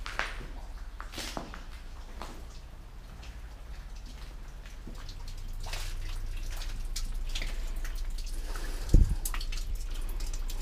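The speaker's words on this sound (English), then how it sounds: "You can see water is just pouring into this place." Water pours and drips into the cellar of an abandoned hotel in a steady, faint trickle that swells slightly midway, with scattered drips and one sharp knock near the end.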